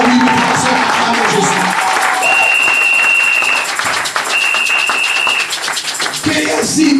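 A church congregation applauding and cheering, a crowd of sustained clapping with whoops and sung or shouted voices over it, loud and close throughout, swelling again near the end.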